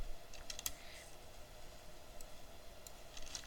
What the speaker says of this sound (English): in this text layer, we're going to type in, "This is my